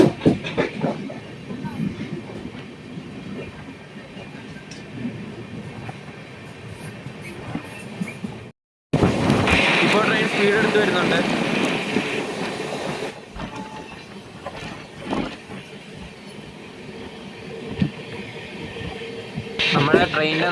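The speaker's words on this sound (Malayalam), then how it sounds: "ട്രെയിൻ ഇപ്പോൾ പിറവൻ റോഡ് റെയിൽവേ സ്റ്റേഷൻ സ്കിപ്പ് അടിക്കുവാണേ" Ernakulam–Velankanni Express running through Piravom Road station without stopping, a continuous rumble of wheels and carriages heard from on board, with a brief cutout and a louder, rushing stretch midway; voices come and go underneath.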